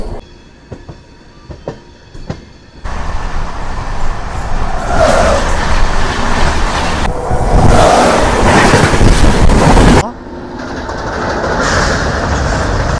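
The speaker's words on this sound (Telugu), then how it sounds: "మన ట్రైన్ వచ్చేసి బ్యూటిఫుల్ కర్వ్ అయితే తీసుకుంటుంది" An LHB-coach Tirupati–SMVT Bengaluru Intercity Superfast Express takes a curve, its broad steady rumble of wheels and rail building from quiet clicks into a loud continuous roar with squeal-like tones. The roar drops suddenly near the end, then continues at a lower level.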